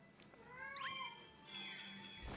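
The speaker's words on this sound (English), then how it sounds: "Shoutouts to my cat in the background." A pet cat meows in the background, a drawn-out, rising-and-falling call followed by a second longer meow, faint and distant against a low room hum.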